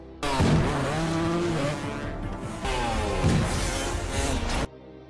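Dirt bike chase from an action film, with engines roaring loud and close in two long bursts split by a short dip, pitch sweeping up and down as the trail motorcycles rev hard.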